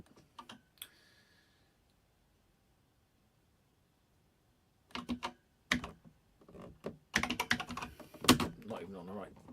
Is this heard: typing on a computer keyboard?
yes